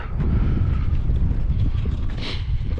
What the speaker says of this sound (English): It is windy and cold out here.